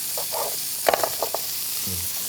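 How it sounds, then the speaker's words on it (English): Turmeric, jalapeno and onion fry in a pan with a constant close hiss, while a utensil stirring through them adds a few scraping clicks and taps. "So keep on stirring because otherwise you'll burn it."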